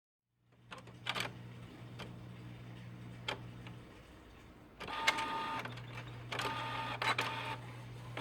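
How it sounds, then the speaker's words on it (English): Home inkjet printer pulling a sheet back in for double-sided printing: a low motor hum, ticking clicks, then a louder whirring grind as the paper feeds through, close by and with no voices. "you see how the paper was pulled into the printer?"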